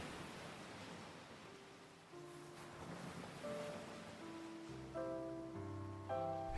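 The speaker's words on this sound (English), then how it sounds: "listening attentively to the beach sounds" Ocean surf rolls onto a beach as a continuous wash of broadband noise, with soft sustained musical tones layered over the waves.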